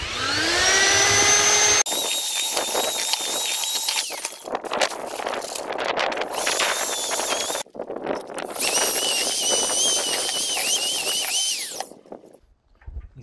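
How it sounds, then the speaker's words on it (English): A power mixer churns cement in a container, a loud whining motor that rises and falls in pitch over several long runs broken by brief stops, with no talking over it. "So I'm going to mix up the cement that I put in here."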